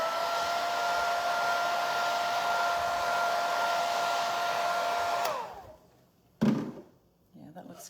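A hair dryer blows steadily on stencil paint on a wooden Easter crate with a constant whirring hum for about five seconds, then switches off, followed by a sharp thunk and quiet handling noises.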